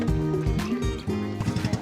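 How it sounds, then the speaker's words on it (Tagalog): A motorboat tows a raft across open sea off Immuki Island in Balaoan, La Union. Its engine hums steadily and close, with water sloshing and faint voices underneath. "so hinihila tayo ng bangka"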